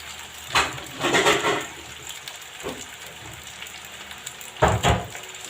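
Food frying in oil in a covered pan on a low gas flame, giving a soft steady sizzle punctuated by a few louder crackling bursts, with no voices.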